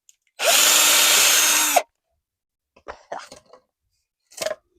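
A power drill whirs loudly for about a second and a half, then stops, followed by a few brief soft knocks and rustles.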